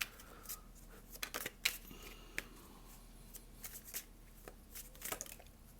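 Tarot cards are drawn and handled from a deck, giving soft close sliding and flicking snaps in irregular clusters over a quiet background.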